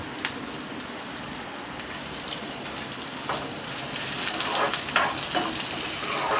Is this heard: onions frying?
yes